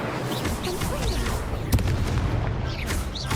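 Incendio fire spell cast in Hogwarts Legacy: a dense whooshing burst of flame with booming impacts and a sharp crack midway, loud and continuous over game ambience, with no voice present.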